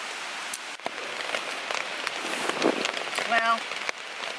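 Steady rain patters on a backpacking tent on a Great Smoky Mountains trail, a dense close hiss with scattered drops throughout.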